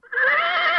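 A horse neighs as a short sound effect, a loud, bright whinny rising quickly and holding steady with a wavering pitch, heard alone with no talk.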